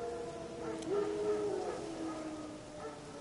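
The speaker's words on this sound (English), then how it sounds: "No. Wild dogs." Wild dogs howl in a The Witcher 3 game scene, a single drawn-out, wavering howl rising in the middle of the clip and then fading, heard from a moderate distance over a low ambient bed.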